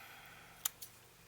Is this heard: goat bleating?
no